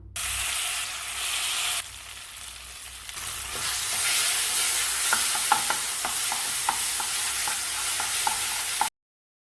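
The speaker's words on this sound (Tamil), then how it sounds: "இப்போ வேக வச்ச மாங்காயம் சேர்த்து கிளறலாம்" Steady scraping and stirring in a hot pan as boiled raw mango is mixed with curry leaves and mustard seeds for a sweet mango pachadi, with a soft sizzle underneath, close and continuous, no talking.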